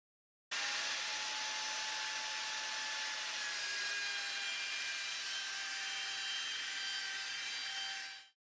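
A handheld router fitted with a round-over bit runs in one continuous whining, hissing pass along oak corners for a mirror surround, close and steady for about eight seconds before spinning down.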